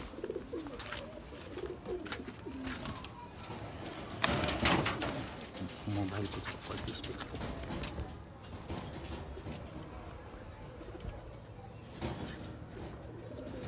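Nagpuri pigeons in a cage give soft, repeated cooing throughout, with wing and cage rustles and a louder flutter partway through, while someone talks nearby.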